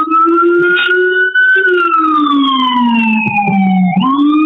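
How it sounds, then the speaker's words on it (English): A loud wailing siren sweeps slowly up and down close by, with a second siren tone layered above it. "sorry about the sirens and stuff"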